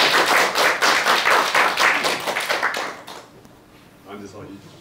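Lecture audience claps to welcome a philosophy professor, a loud, steady round of applause from a small crowd that fades out after about three seconds, then a voice begins speaking in the quiet room.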